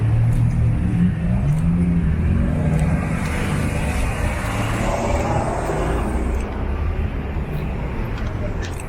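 City buses and general traffic rumble along a street in Belgrano, Buenos Aires. The roadway noise is dense and continuous, with engines revving and passing, and a person speaks briefly over it near the start.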